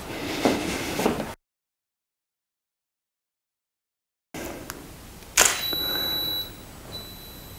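A camera shutter clicks sharply close by while self-portrait photos are taken in a home living-room studio, followed by a brief electronic tone; no one speaks.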